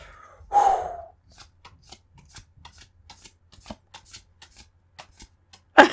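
Pokémon trading cards are handled close up: a brief rustle as a pack is opened, then a string of soft, quick card flicks and slides. A final sharper rustle comes at the end.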